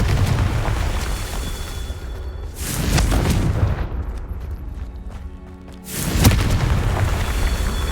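Deep booming blasts of the Confringo fire spell in Hogwarts Legacy on Xbox Series X erupt twice over a constant rumble of game ambience, loud and close, no talk heard.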